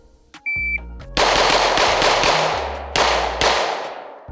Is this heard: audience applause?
no